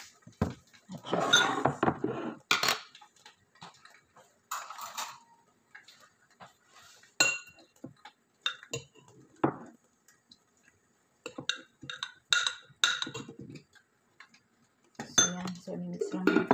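A utensil scrapes and clinks against a bowl while tuna sandwich filling with black pepper and salt is mixed, coming in irregular bursts of clattering strokes separated by brief pauses.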